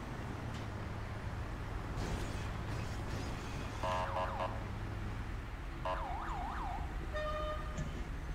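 Wailing ambulance siren in a roleplay video game, its rising and falling sweeps starting midway and repeating over a steady engine-like hum and background game noise.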